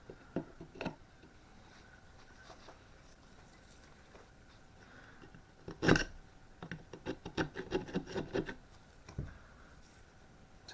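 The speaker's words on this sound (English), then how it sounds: "gotta get this rust off, or at least stop it" Rust being scrubbed off a Spanish M1943 Mauser 8mm rifle, heard as a run of quick, close rasping scrapes in short bursts, with scattered single strokes before the main burst.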